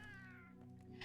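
A cat companion in the video game Monster Hunter Wilds gives one quiet, drawn-out meow, faint and alone.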